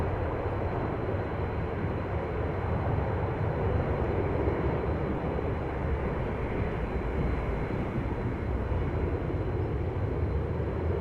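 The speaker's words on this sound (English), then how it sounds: "Always good noise making machines, these A330s" An 18-year-old Airbus A330 departs Amsterdam Schiphol Airport, its engines a powerful, sustained roar that stays steady and loud for the whole stretch, with no talking.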